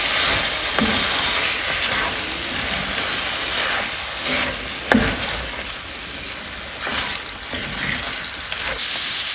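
Tomato puree cooks in oil in a pan over a low gas flame for a Mughlai chicken curry. It makes a soft, steady hiss with occasional faint pops and bubbles, close by and with no talking.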